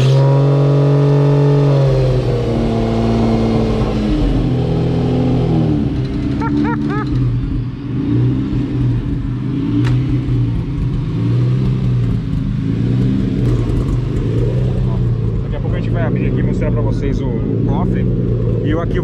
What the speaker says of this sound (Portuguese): Isso aqui é uma Variant 2 com motor boxer 6 cilindros.